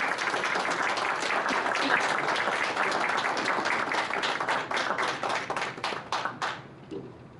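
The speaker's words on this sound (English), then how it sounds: "So a round of applause for our board" Modest round of applause at a school board meeting, many hands clapping steadily at moderate volume before thinning into a few scattered claps and fading out.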